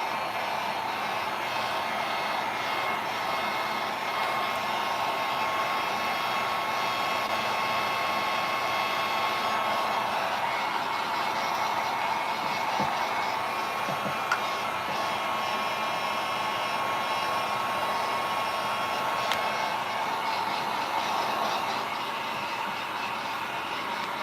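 A hair dryer blows steadily on paint layers for resin art, a constant close whirring roar that runs without pause the whole time, with no voices over it.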